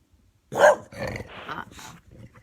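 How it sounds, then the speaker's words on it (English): A dog barks sharply once, then gives a few lower, rougher barks and growls, heard from a short distance. "There's a dog outside."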